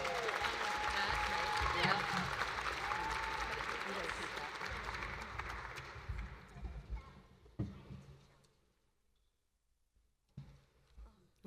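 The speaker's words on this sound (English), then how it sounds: "Huge round of applause for all of the teachers." Audience applause for teachers at an awards ceremony, a full sustained wash of clapping that gradually tapers off and ends in near silence, broken by a few scattered late claps.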